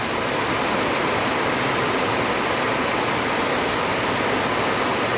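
Steady, loud rush of the flooding Paaig River overflowing its banks, a dense roar that fills the whole clip without a break.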